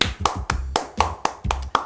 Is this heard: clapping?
yes